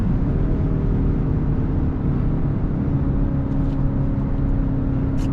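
BMW X5 M50i with a 4.4-litre V8 BiTurbo engine cruising at high speed on the Autobahn, a constant loud low road and engine roar mixed with wind rush inside the cabin, steady throughout with no speech.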